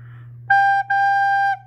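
A recorder plays the opening of the children's song It's Raining: a clear, steady held note, a short break, then a longer sustained tone sliding to a lower pitch, heard alone over a faint constant hum.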